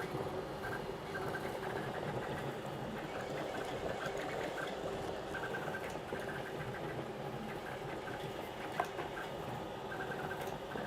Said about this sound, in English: That was all the printer.